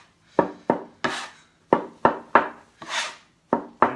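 A scraper chops and scrapes egg into flour for pasta dough on a work surface, making about ten sharp, close, rhythmic scraping strikes with short pauses between them, and no one speaks.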